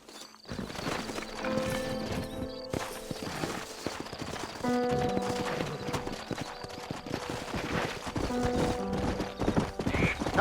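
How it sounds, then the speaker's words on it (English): Horses in the Red Dead Redemption video game clip-clop in a brisk, continuous rhythm, with a whinny or two and occasional clatter mixed in, close and prominent. "Horses are over here!"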